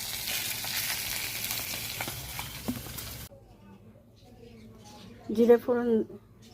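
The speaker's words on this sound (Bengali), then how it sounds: "জিরে ফোড়ন দিয়েছি। এবার একটু লাল হবে।" Cumin seeds crackle and sizzle in hot oil for a Bengali rohu fish dish, a dense frying hiss that cuts off halfway, followed by quieter stirring and a brief burst of clattering.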